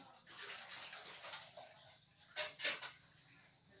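Boiled mie lidi noodles for Batak mie gomak being drained in a strainer, with water splashing and running through and metal clattering twice in sharp bursts near the end, close and fairly loud.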